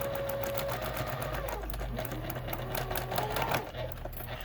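A sewing machine stitches a quilt block for a spring mystery quilt, running as a steady, close mechanical whir for the whole stretch without pause.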